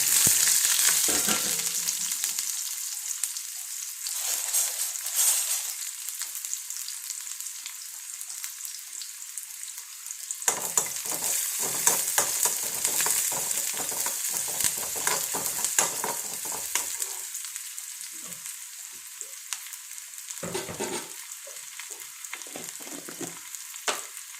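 Sliced onions fry in oil in a pan on the stove, a continuous close sizzle and crackle with repeated scraping stirs, swelling and easing, with no talking.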